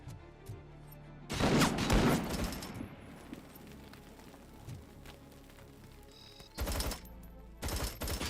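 Gunfire in the RoboCop: Rogue City video game, loud bursts of shots crackling at the start and again near the end, with quieter rattling and ambience between.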